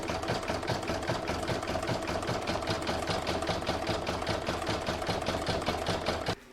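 An embroidery machine sews a satin stitch in the hoop on a reversible Christmas placemat, a close, steady, rapid mechanical chatter that runs continuously and then stops abruptly.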